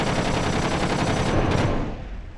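A plane's guns firing in a video game, a loud continuous rapid rattle of close automatic fire that runs steadily for about two seconds, then cuts off abruptly.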